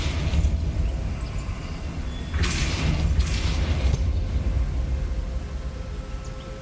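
Depulso spell cast in Hogwarts Legacy: a loud whooshing, rumbling burst that swells after a low mechanical drone, with creaking, booming layers fading into a steady background hum.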